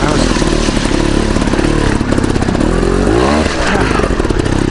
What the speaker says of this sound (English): I had the back brake on so hard I just locked it up. Stalled the engine.